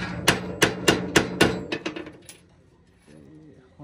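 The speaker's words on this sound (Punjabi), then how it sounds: "ਅਤੇ ਹੁਣ ਆਪਾਂ ਨਟ ਪਾਉਣ ਲੱਗੇ ਹਾਂ" Metal nuts are fitted and tightened on a thresher plate: a quick run of about eight sharp metallic clinks and knocks, close and ringing, that fade into quieter handling noise.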